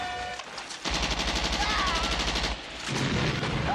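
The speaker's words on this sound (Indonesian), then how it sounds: "pasukan Vietnam kembali menyerang dengan mortir dan tembakan" Gunfire and mortar fire in a Vietnam War combat film scene: a dense, rapid burst of automatic fire with deep booming thumps rattles on for a couple of seconds, set among loud battle noise.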